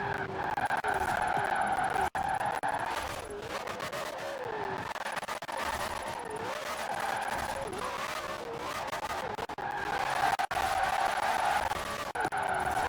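Ford #25 Mustang RTR drifting in Forza Horizon 4, the engine wailing and shifting pitch while tires skid and squeal in sustained bursts, loud and continuous.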